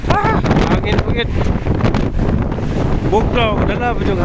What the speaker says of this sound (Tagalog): Ah, hangin bukit.